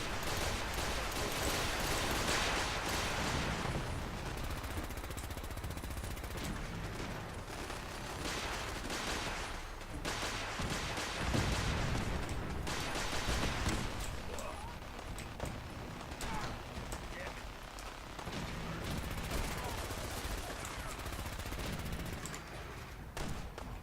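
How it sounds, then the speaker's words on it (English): Gunfire in a Fallout game crackles in dense, overlapping bursts for more than twenty seconds, blended with game noise and background clatter and heard at a fairly low, steady level. "Still hearing shots going out."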